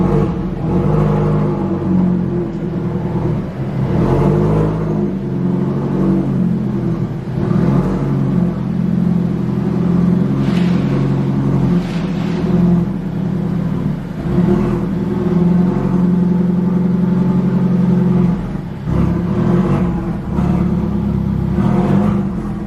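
Steady, loud engine rumble of an Alfa Romeo idling and creeping slowly onto a car lift inside a small garage, with slight rises in revs and an even drone throughout.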